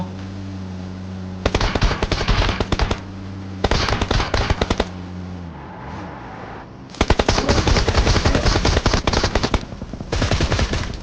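Bursts of rapid automatic gunfire from PUBG Mobile, loud and close, arriving in several long rattling volleys with short gaps between them and no talk over them.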